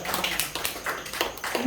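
A church congregation at a Sunday service claps for Jesus in loose, uneven bursts of applause, while a voice carries on speaking over the clapping.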